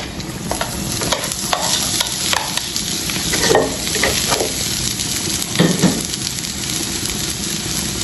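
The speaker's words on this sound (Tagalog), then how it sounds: "ilalagay na natin ang bawang at sibuyas na hiniwa" Sliced garlic and onion sautéing with dried century tuna for tuna sisig, a steady close sizzle broken by repeated scraping stirs of a spatula against the pan, no voices.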